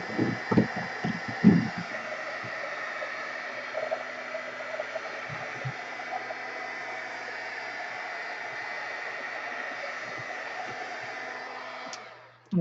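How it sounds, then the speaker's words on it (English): Steady, close whoosh of a handheld heat dryer blowing over Dylusions paint on a journal background page, running continuously for about eleven seconds, with a few faint taps early on, before switching off. "I'm going to first hit this with the heat dryer just to make sure that it's good and dry."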